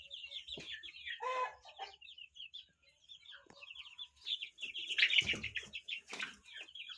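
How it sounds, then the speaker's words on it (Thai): Many small chicks of a Thai chicken breed peeping in quick, high-pitched chirps close by, with a brief rustle and a soft low thump partway through. "มาดูลูกไก่ชุดนี้นะครับ"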